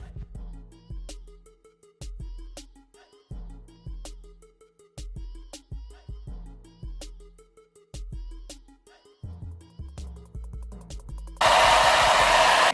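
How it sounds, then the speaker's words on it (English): A rhythmic music beat plays for most of the stretch, then a hair dryer roars in loud and close near the end, blowing hair into place. "I'm gonna go back with my dryer and pretty much dry this into place"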